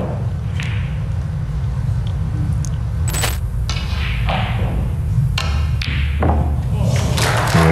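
A snooker ball struck on a long pot during the English Open 2023: a sharp cue-ball click, then a distant clack and a thud as it drops, over steady crowd murmur and commentary.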